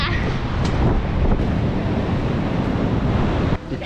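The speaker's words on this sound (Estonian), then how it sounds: "Te näete sellist laine" Sea waves on the Canary Islands, a loud, continuous rushing wash of surf mixed with heavy wind buffeting the microphone, dropping off abruptly near the end.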